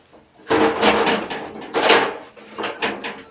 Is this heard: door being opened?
yes